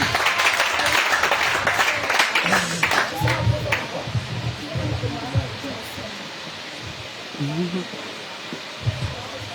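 A church congregation at a worship gathering in Grand-Bassam bursts into loud, rapid clapping for the first few seconds. The applause fades into murmured voices and singing-like speech.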